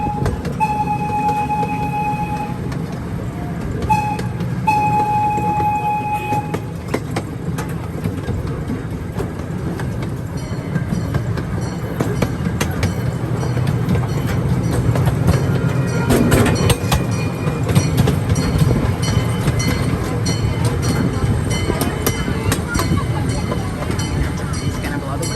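A museum train rolls along the tracks with a steady rumble and clatter, and two short whistle tones sound early on. A voice speaks over the running noise.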